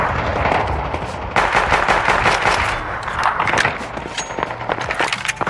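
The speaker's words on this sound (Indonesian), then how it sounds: "Suaranya itu suara background tembakan cukup jelas kedengaran" Dense, continuous video game gunfire crackles throughout, with rapid bursts layered over a constant rumbling din, loud and chaotic like a firefight.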